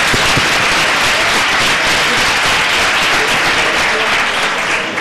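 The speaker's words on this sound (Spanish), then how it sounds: "Para que sigan ustedes aplaudiendo" Conference audience at a labour reform session breaking into loud, sustained applause, dense continuous clapping filling the whole stretch with no pauses.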